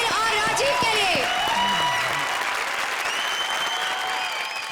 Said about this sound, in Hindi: जोरदार तालियां स्वप्निल और राजीव के लिए